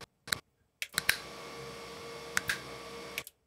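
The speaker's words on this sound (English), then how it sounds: "when I did the snaps with the other hand, I snap a lot higher, a lot louder" Sharp finger snaps recorded in a quiet room during a camera audio sync test, a few crisp isolated clicks with some doubled, spaced irregularly over about three seconds, close and fairly loud.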